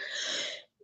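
A single sneeze bursts out at close range as one loud, breathy, hissing blast lasting under a second in a podcast studio, then cuts off abruptly.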